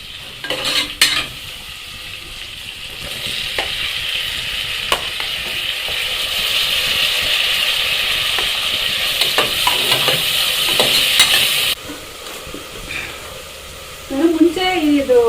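Onions and tomato fry in hot oil in a pan for egg biryani. A loud, constant sizzle runs throughout with stirring scrapes and utensil clinks, then eases near the end as a voice briefly speaks.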